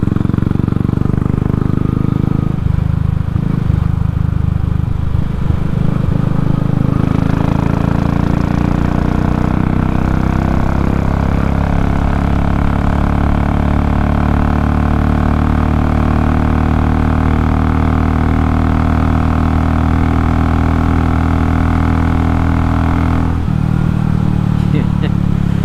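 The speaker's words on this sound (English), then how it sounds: "Roll on performance using the torque of the bike" A Royal Enfield motorcycle fitted with a Race Dynamics Powetronic ECU rolls on the throttle along a road, its engine note climbing steadily in a loud, continuous drone with a brief easing near the end.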